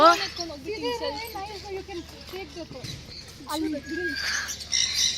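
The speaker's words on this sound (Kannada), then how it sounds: "ಬರ್ಡ್ಸ್ ಎಲ್ಲ ಇದೆ ಅಲ್ಲಿ ಒಳಗೆಲ್ಲ ಬರ್ಡ್ಸ್ ಇದೆ" Birds chirp and tweet at a resort near the dining hall, repeated short calls close by while people talk over them throughout.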